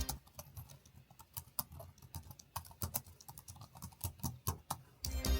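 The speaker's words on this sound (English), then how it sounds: "it offers a very quiet typing experience" Someone types on a foldable keyboard with quiet, soft clicks in an irregular rapid patter, close and alone, with a brief louder cluster at the end.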